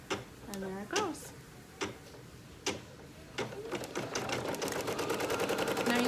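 Computerized embroidery machine stitching a design onto a towel under a topper layer, starting with a few spaced clicks and beeps, then settling into a steady, rapid needle chatter close by; no speech is heard.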